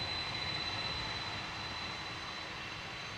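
A KLM Boeing 747 on takeoff gives off a steady, distant jet engine roar, a broad even rumble with a faint high whine held throughout and no talk.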